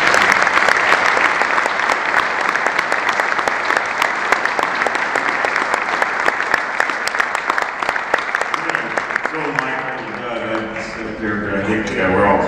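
Audience applause for a lifetime achievement award at the SCO Forum 2006 conference: sustained, loud, close clapping from a large crowd that fades slightly near the end as a voice begins speaking over it.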